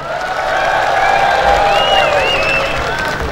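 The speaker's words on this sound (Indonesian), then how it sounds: "Kasih tepuk tangan yang meriah" Audience applause at a regional association's anniversary and inauguration ceremony in Central Java, a dense, loud wash of clapping and cheering that swells and holds for several seconds, with whistly voices rising above the crowd.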